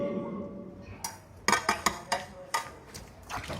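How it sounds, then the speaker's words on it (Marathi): Dishes being washed by hand, with a run of close clinks and clatters of pots and utensils knocking together at an irregular rhythm, fairly quiet, without talk. "चकाचक भांडी धुतोय तू"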